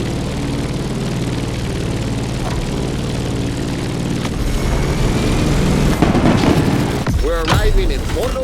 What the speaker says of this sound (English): Let's start our descent and get ready for the landing.